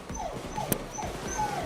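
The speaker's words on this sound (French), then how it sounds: "Mais ta gueule, le chien!" A dog whimpers and yips in short repeated high cries, close and fairly loud, over about two seconds with no one speaking.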